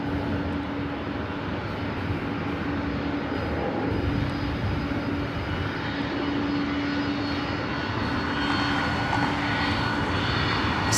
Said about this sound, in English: This is the flight 767-300ER heading to Honolulu.